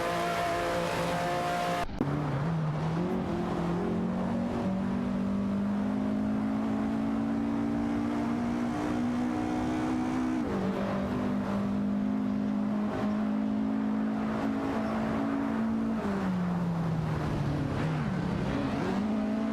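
Race cars battle and overtake in an AI-driven racing video game, one engine whining and climbing steadily in pitch, dropping sharply at each gear change before rising again, loud and continuous.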